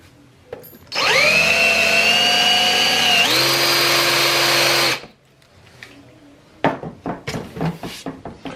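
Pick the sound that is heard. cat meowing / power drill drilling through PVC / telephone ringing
power drill drilling through PVC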